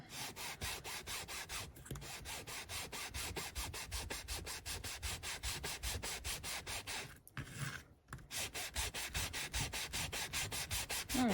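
Rapid rhythmic scraping strokes, close and steady, of sanding shiny playing cards back and forth, with a brief pause near the end.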